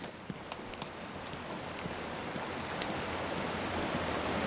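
Water flows steadily in Batman: Arkham Asylum, a constant rushing wash at moderate volume with a few faint clicks and ticks on top and no talk.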